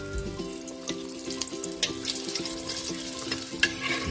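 Daing na bangus, dried milkfish, fries in oil with a steady sizzle broken by scattered sharp pops and crackles, heard up close.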